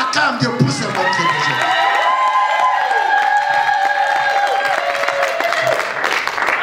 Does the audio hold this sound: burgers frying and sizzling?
no